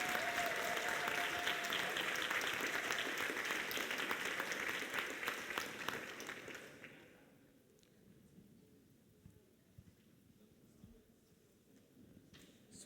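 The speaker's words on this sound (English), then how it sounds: "Huge round of applause for all 3 teams and all 3 pilots." Applause from the audience at a CYBATHLON brain-computer interface race event in Graz, Austria, honoring three teams and their pilots; loud, dense clapping for about six seconds that fades out, leaving a quiet hall with scattered faint sounds.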